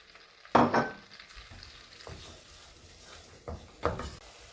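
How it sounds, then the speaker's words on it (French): Onion sweats in melted butter in a pan, a soft low sizzle broken by a few sharp clatters of a utensil against the pan, close and quiet between strokes. "nous allons rajouter l'oignon et le faire suer"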